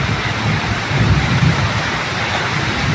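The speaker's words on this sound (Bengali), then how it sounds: "আজ আমাদের এখানে প্রচুর বৃষ্টি হচ্ছে" Heavy rain pours down in a steady, dense roar, loud and close, with no voices and no breaks over the whole stretch.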